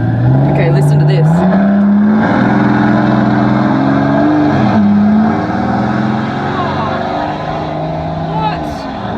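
Loud engine of the one-off Maybach Exelero revving, its pitch stepping upward in surges before easing off, close and continuous, with people talking over the roar.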